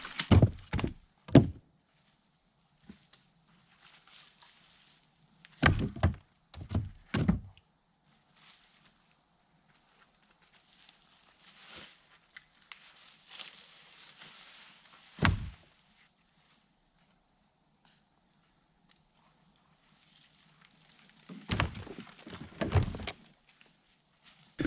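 Chunks of resinous fatwood stump are tossed into the bed of a Ranger utility vehicle, making heavy woody thunks in short clustered bursts. Quieter scraping and shuffling fills the gaps.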